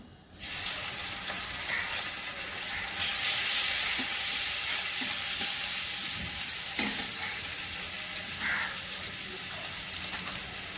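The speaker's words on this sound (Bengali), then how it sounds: "গরম মশলাগুলো ফোড়ন করলাম, আদা বাটাটা দিলাম" Whole garam masala spices and ginger paste hit hot oil and burst into a loud, dense sizzle that settles into a steady crackling hiss, with a few light spoon taps.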